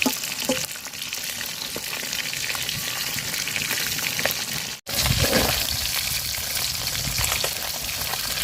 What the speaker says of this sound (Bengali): মাছগুলা খুব সুন্দর করে ভাজা নিচ্ছি